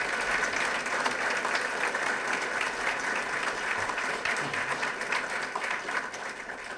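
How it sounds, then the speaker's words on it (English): Sustained audience applause fills the whole stretch, steady and dense, at the public unveiling of the Harbor Place development in downtown Haverhill. "So please give them another round of applause."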